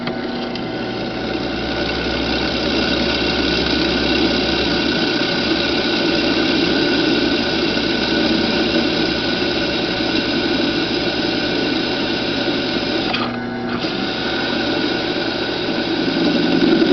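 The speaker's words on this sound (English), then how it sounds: "Got the 1/4 inch bit in first, so I'll start with the tong hole." Drill press running with a 1/4 inch bit, boring the tang hole in a steel knife blank; a steady motor whine with cutting drone holds for about thirteen seconds, briefly dips, then resumes close and loud.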